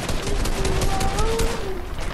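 Rapid bursts of gunfire from a first-person shooter video game fill a short stretch, dense and loud, with a voice faintly under the shots.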